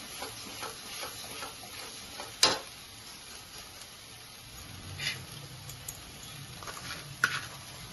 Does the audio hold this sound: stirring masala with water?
yes